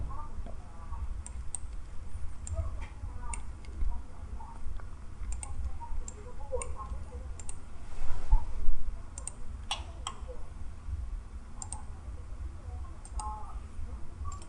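Computer mouse clicks while working in Inventor CAD software, scattered sharp ticks in irregular bursts over a low background hum, close and fairly quiet.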